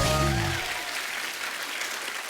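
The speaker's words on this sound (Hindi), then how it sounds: "तालियां बजती रहनी चाहिए आपकी।" A television comedy show's studio audience applauds as a guest is seated, steady full clapping that begins under the tail of a host's sung or spoken voice and then continues alone.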